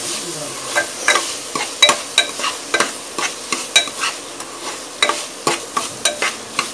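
A spoon scrapes and stirs through chana dal (split chickpeas) frying in spiced masala oil, with rhythmic clattering strokes over a steady sizzle, close up and fairly loud.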